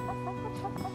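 Several hens cluck and murmur softly in a backyard chicken yard, close by, in an uneven, continuous chatter.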